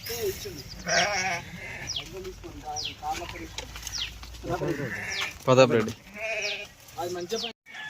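A village flock of sheep bleats repeatedly, with overlapping wavering calls at varying distances against a quiet outdoor background.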